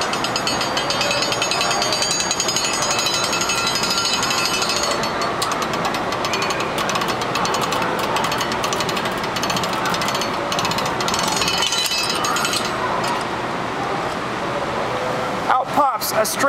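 A hand-cranked penny pressing machine turned by its wheel gives a loud, continuous grinding and ratcheting clatter for about fifteen seconds, ending in a few sharp clunks.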